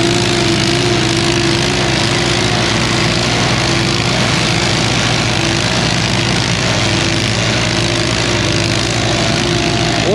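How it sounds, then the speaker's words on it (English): Small old Detroit tractors with engines run side by side, one fitted with a 4-in-1 bucket and the other with a blade. Their loud continuous idle-like chugging hum holds steady throughout with no talk over it. "Here are little Detroit tractors pushing side by side"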